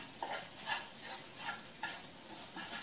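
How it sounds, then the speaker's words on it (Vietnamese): Dried shrimp floss stir-fried in a pan with fish sauce, salt and sugar sizzles, with a regular rhythm of scraping stirring strokes about every half second over a soft steady crackle, close and alone. "Nó xèo xèo có nghĩa là nó khô rồi đó, mấy bạn thấy không?"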